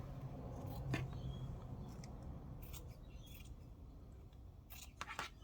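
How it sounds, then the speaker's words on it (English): Scissors snip through fabric for a boro sashiko table runner, a few quiet crisp cuts spaced apart, close and soft against a low room hush. "So I can just cut a square here."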